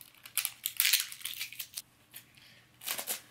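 Several crisp snips of scissors cutting, irregular and close, with short pauses between cuts in an otherwise quiet room.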